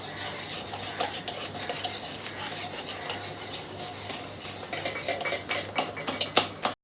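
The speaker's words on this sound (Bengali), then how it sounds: "দিয়ে আমি এটা সুন্দর করে চিনিটা গুলোই নিব" A utensil stirs sugar in a bowl to dissolve it for an orange cake batter, giving quick repeated scraping and clinking against the bowl over a low steady hum. The strokes build toward the end, close and moderately loud, with no talking.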